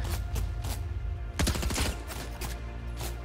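Gunfire in a fishing-loot-only battle royale game challenge: a burst of rapid shots around the middle, with fainter shots before and after, set against steady game background sound.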